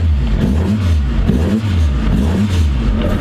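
The Alfaholics GTA-R290 Alfa Romeo, with an Alfa 75-derived engine, pulls loudly up the Stelvio Pass, its engine note climbing and dropping through repeated rev sweeps and gear changes, heard from inside the car.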